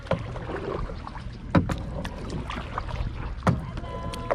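A pedal kayak moving through open water, with a steady wash of water and wind noise and two louder splashes or bumps about two seconds apart.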